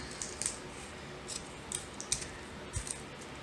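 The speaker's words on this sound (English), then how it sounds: "So I'm going to put a couple more pieces of tape just so it stays down" Faint scattered crackles and soft ticks of tape being pulled and pressed onto a paper sewing pattern, irregular and close but quiet, over a steady low room hiss.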